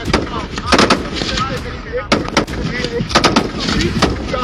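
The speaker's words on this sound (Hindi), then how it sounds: "ये जो आप वेपन देखते हैं फायरिंग ये वेपन है जो किया है और ये फायरिंग आप देख रहे हैं" Indian Army weapons fire on a range in sharp repeated blasts, some in quick clusters, over a loud continuous rumble, with a voice speaking in between.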